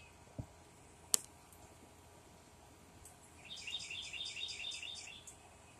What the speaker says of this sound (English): Making their morning sound.